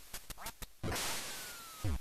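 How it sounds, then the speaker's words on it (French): Video game ducks quack in quick nasal bursts, then a sharper, brighter game noise sweeps through before one more quack at the end, all faint and close with no speech. "mes petits canards ils commencent à me casser les dents"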